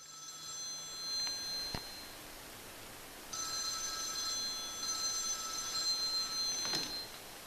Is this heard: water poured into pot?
no